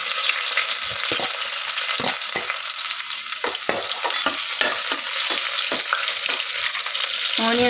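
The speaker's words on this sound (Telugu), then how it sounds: "మంచి గోల్డెన్ బ్రౌన్ కలర్లో వచ్చేంత వరకు ఫ్రై చేసుకోవాలి." Thinly sliced onions frying in hot oil, a dense continuous sizzle close by, broken by repeated scraping stirs of a spatula against the pan.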